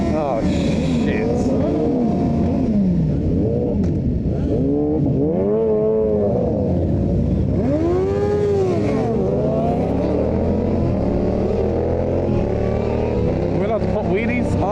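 Yamaha MT-07 motorcycle engine revving and accelerating on a group road ride, with rising and falling pitch sweeps through the gears, loud and close, mixed with wind and other bikes, while a rider talks over it.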